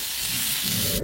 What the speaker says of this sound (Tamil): மிளகாய் வறுத்துக்கிறேன்.